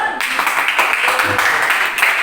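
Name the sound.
class applauding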